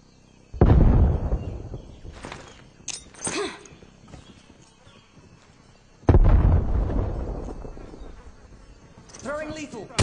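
Semtex grenade explosions in a video game: two loud, close booming blasts, each with a long rumbling decay, several seconds apart, with game voice callouts and effects in between.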